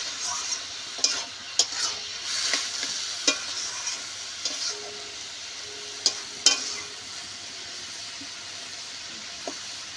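Cabbage with prawns and potato sautéed in a pan, a steady soft sizzle broken by scattered spoon scrapes and clatters against the pan, fairly quiet and close, with no talking.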